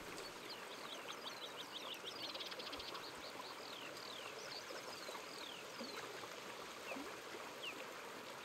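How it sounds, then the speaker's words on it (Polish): Flowing stream water in the video game A Plague Tale: Requiem, a steady continuous burble heard alone, with many bright bird chirps scattered over it. "Woda ze strumienia."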